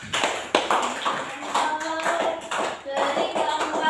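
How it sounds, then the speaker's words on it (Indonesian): Classroom applause for a student group, a burst of clapping from many hands that swells and carries across the room, with voices mixing in. "Tepuk tangan buat kelompok 4."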